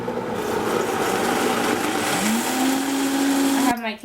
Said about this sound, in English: I'm gonna blend.